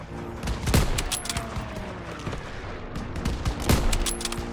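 Call of Duty WWII battle in a mission taking a church: continuous rattling gunfire and repeated shots, loud and close, with a couple of heavier reports standing out over the steady clatter.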